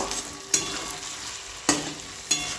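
Fried stingray pieces are stirred and sautéed in a sizzling pan. Three sharp scraping stirs cut through a soft, steady frying hiss, close and without talk.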